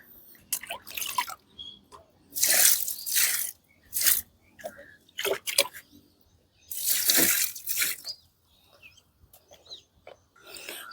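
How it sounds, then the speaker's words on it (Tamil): Water is poured from a mug onto rose plants: two short, close splashing gushes with scattered drips and small rustles between them. "ஒரு ஒரு மக்கு மட்டும் நான் ஊற்றி விடுறேன் சரிங்களா இதே மாதிரி தான் எல்லா செடிகளுக்கும் நான் ஊற்றி விட போகிறேன்"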